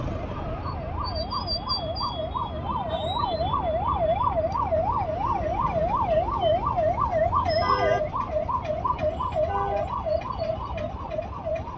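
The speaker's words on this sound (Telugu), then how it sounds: "అంబులెన్స్కి దారి ఇవ్వండి రా బాబు." A wailing ambulance siren rises and falls steadily and loudly over constant road traffic noise, with a few brief horn-like bursts along the way.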